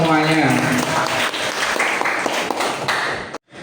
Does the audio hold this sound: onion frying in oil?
no